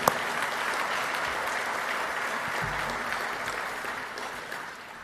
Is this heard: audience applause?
yes